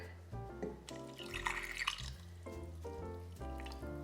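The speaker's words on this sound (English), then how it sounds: "then I'm going to add the water" Water pours and splashes steadily into a cooking pot for a couple of seconds over a low background hum, with soft trickling near the start and end.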